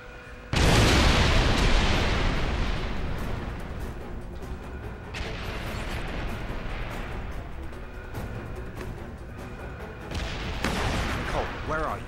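Heavy gunfire and explosive booms in the James Bond 007: Blood Stone video game, Siberia level: a loud blast opens, then sustained rumbling fire with renewed bursts near the middle and end.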